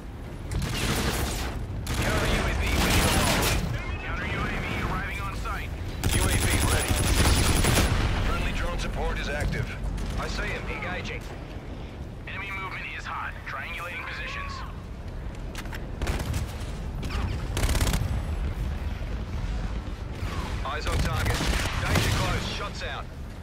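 Rapid bursts of automatic gunfire from a team deathmatch in the video game Call of Duty: Infinite Warfare, loud and dense with overlapping shots and explosions, while a voice talks over the action throughout.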